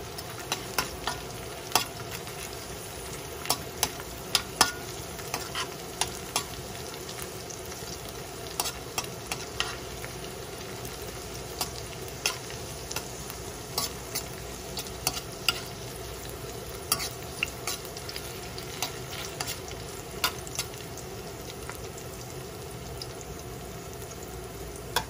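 Garlic and ginger sauté in hot oil for fish bagoong with tomato, a steady sizzle broken by frequent sharp scrapes and clinks of a spatula stirring the pan, close and continuous with no talking.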